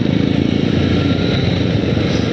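A motorcycle engine running right after starting on a cold morning, a loud, steady close-up idle with a rapid pulsing rumble that holds evenly for a couple of seconds.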